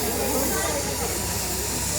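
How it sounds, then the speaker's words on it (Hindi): An old coal-fired steam engine of the Darjeeling toy train vents steam in a loud, steady, unbroken hiss that fills the whole moment up close. "देखो ये कैसे भाप निकल रही है ना"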